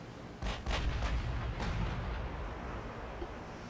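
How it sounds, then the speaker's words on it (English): Naval guns fire in the warship game Ultimate Admiral Dreadnoughts: four or five heavy booms come in quick succession early on, then fade into a low rumbling tail. "They're starting to open fire"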